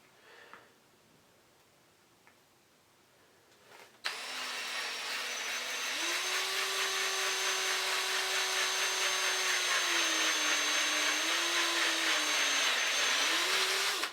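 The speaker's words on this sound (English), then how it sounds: "And you're going to line that drill bit up good." A drill bores a hole through a Riddell football helmet: after a few quiet seconds with small knocks, a loud, high motor whine starts abruptly close by and holds for about ten seconds, its pitch dipping slightly as the bit bites.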